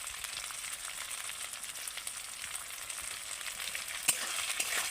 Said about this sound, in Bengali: এবার আমি এইভাবে ভালো করে নেড়ে নেড়ে ভেজে নেবো